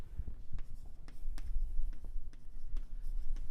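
Chalk or marker writes on a lecture-hall board with a run of short, irregular taps and scratchy strokes, close and moderately loud, with no talking.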